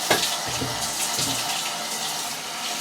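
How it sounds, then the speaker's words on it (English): Running water splashes steadily inside a 20 liter heavy duty water container as it is rinsed out, a close, continuous rushing and sloshing with no voices. "So we'll go ahead and just rinse it off now."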